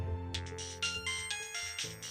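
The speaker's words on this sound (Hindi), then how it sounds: "तभी मोबाइल की घंटी बजी।" A mobile phone ringtone plays a repeating electronic melody of short bright tones in quick rhythmic bursts, clear and close, with no talking.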